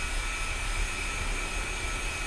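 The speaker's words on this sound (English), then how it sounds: "I think he's landing with his busted plane." Steady jet-engine roar of a damaged aircraft coming in to land in the combat flight simulator DCS: Black Shark 2, a continuous, even drone with a constant high whine and no talk over it.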